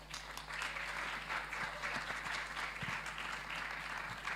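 Audience applause at a CARIFESTA XV conversation event in Barbados, sustained steady clapping from a crowd that swells after a moment and carries evenly to the end.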